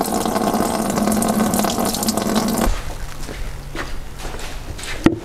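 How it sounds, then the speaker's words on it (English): Old coolant from a car radiator drains and splashes steadily into a bucket, close by, then the flow cuts off and a few clanks and faint drips follow. "drain into this bucket and we'll catch a bit, see what it looks like"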